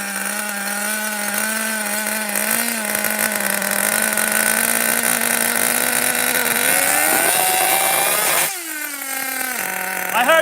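Nitro RC car engine revs steadily at a high-pitched buzzing whine, climbs near the end, drops sharply for a moment, then picks back up, loud and close with no talking.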